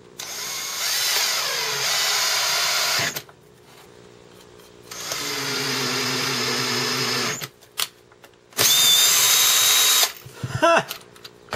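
A power drill drives a homemade bolt-tool coupling nut onto a threaded rod for space-age Sputnik lights, whirring in two long steady bursts with a pause between, then a shorter third burst and a few faint clicks.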